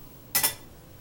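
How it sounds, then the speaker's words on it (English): A knife slices through a lemon in a kitchen, giving one brief crisp cutting sound made of two quick close strokes, with quiet before and after. "so we'll just get this knife, cut this lemon"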